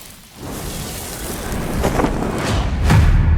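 Heavy rain pours steadily while thunder rolls and booms, growing louder toward the end, in a dramatic lightning tribulation scene with no speech.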